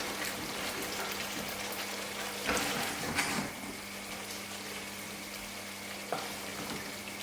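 Tandoori chicken curry base made with cumin cooks in a pan, giving a soft, continuous bubbling sizzle with a few brief scraping clatters and no talk.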